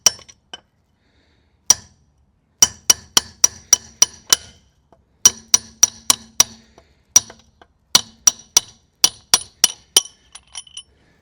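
Hammer tapping a drive shaft out of a Ford Escort RS, a series of sharp metallic clinks in uneven bursts, close and loud with quiet gaps between strikes, no talking.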